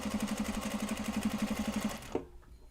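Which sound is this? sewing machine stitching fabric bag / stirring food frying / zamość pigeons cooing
sewing machine stitching fabric bag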